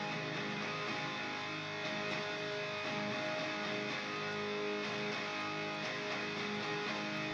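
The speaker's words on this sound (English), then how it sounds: "But the main guitar part sounds like this." A double-tracked main electric guitar part plays sustained, thick distorted chords that hold steady as a dense wall of sound. It stays moderately loud throughout, with no talking over it.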